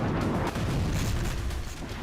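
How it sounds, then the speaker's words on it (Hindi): Heavy rumbling explosions from a missile barrage during the Russia–Ukraine war, a loud, continuous low boom and roar with overlapping blasts and no clear pauses. "मिसाइलों की ताबड़तोड़ बरसात"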